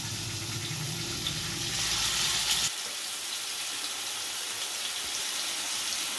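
Marinated chicken pieces drop into hot oil with chopped garlic, setting off a loud, steady frying sizzle that swells briefly, then settles into a softer continuous crackle with no talking.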